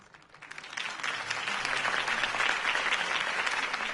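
A crowd bursts into applause after a campaign speech, the clapping swelling quickly from quiet to a sustained, dense roar of many hands at a moderate distance.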